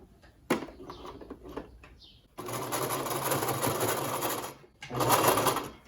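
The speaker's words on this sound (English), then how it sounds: "you get back your sewing machine and then you're going to want to stitch all the way down on both sides" A sewing machine stitches a children's face mask in two sustained whirring runs, loud and close, separated by a brief pause and preceded by a few clicks and handling knocks.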